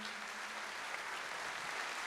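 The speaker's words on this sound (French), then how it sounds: "On vous applaudit" An audience at a 2016 business trophy ceremony applauds a winner, a steady, even wash of distant clapping, soft and continuous with no talk over it.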